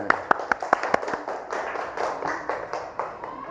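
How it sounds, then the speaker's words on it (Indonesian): A classroom of students claps during a science lesson on metamorphosis: a handful of sharp, distinct handclaps in a loose rhythm near the start, then softer scattered taps that fade out. "Ya, tepuk tangan."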